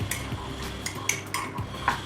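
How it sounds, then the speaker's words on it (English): Metal utensil scraping and clinking against a ceramic mug in short, irregular strokes while stirring rice, close and fairly quiet. "Just mixing the rice."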